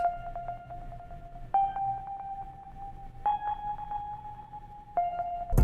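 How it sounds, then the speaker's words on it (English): Dry electric keys preset run through chorus delay and chorus echo effects plays four sustained, bell-like chords in a slow, even rhythm, each note ringing with a soft repeating shimmer, clear and moderately quiet with no voices. "I went into effect rack and I added this chorus delay and chorus echo preset, and with that, this is what that sounds like."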